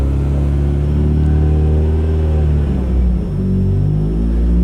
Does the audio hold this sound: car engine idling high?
yes